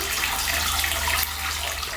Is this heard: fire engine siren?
no